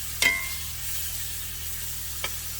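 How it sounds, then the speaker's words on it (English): Mushrooms sauté in butter in a pan with a steady hiss of sizzling. Two light utensil clinks cut through it, one at the start and one near the end. "You want to saute your mushrooms really well in this butter"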